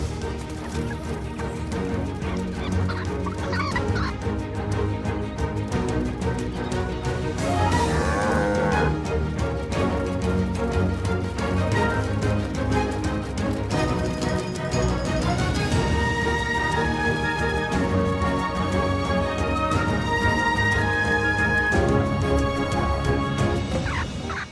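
Cattle moo from a pen, their long lowing calls overlapping with other farm animals and clucking fowl in a busy, continuous outdoor scene, with no talking.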